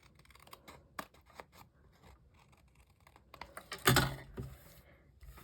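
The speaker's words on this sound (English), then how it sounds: "I would just turn it over and trim this." Scissors snipping off the excess edges of woven paper strips, a run of quiet crisp cuts ending in one louder close snip, with no talking.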